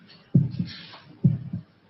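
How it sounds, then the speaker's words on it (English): Two low, muffled heartbeats, each a lub-dub pair, thump slowly at an even pace over faint background hiss. "Can you hear your heart beating?"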